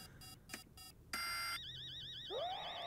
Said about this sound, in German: Ah, okay, jetzt geht der Alarm los.